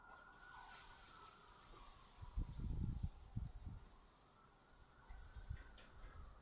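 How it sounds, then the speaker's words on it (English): A siren wails faintly in the distance outside, a thin, steady tone drifting in over low rumbling and a few close thumps. "Ignore the sirens."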